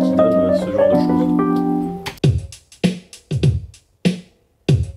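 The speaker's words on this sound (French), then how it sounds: "sur ce riff de clavier, j'ai programmé une rythmique qui donne ce genre de choses" A sustained keyboard riff of layered chords plays for about two seconds, then a programmed drum rhythm takes over with punchy, evenly spaced kick and snare hits and short gaps between them.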